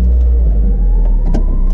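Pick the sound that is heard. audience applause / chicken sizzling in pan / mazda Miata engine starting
mazda Miata engine starting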